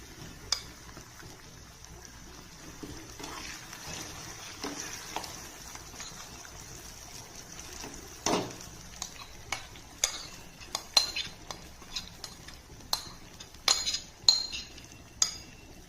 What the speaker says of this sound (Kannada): ಇವಾಗ ನಾನು ರುಬ್ಬಿಟ್ಕೊಂಡಿರೋದು ಮಾವಿನಕಾಯಿ ಹಾಕ್ತಾ ಇದ್ದೀನಿ.